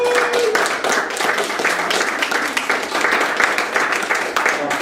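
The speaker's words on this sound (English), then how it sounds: "So let's give Tony a round of applause." Close, loud clapping from a small room audience thanking an organiser at a mindfulness music gathering, a busy patter of hands that holds steady throughout.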